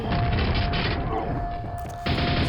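Nailgun fire in the VR shooter Quake VR produces a loud, dense, rapid mechanical clatter of repeated shots with metallic ratcheting tones, sustained through a short burst.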